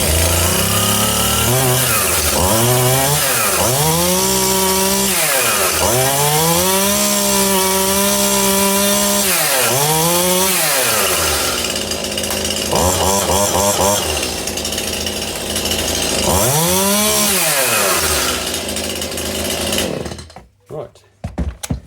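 A freshly serviced Stihl chainsaw starts and runs close by, its engine repeatedly revving up into loud whining peaks and dropping back to idle before cutting off at the end.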